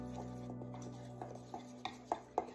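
Carob square batter is stirred in a bowl with a utensil, soft scraping strokes followed by a run of sharper taps against the bowl growing louder toward the end, close and quiet.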